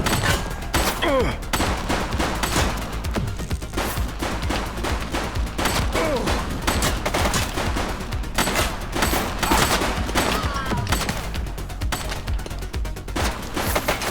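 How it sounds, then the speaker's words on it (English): Rapid bursts of gunfire in the police video game The Precinct, a dense fusillade of loud shots and automatic fire rattling continuously with no pause. "He's shooting!"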